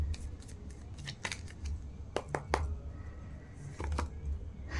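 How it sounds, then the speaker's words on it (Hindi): Tarot cards being drawn and handled from a deck: a quiet series of crisp, papery snaps and flicks at an irregular pace, close up, with no talk. "चलिए पहले मैं कार्ड निकाल लेती हूँ।"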